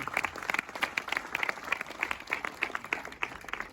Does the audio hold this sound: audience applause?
yes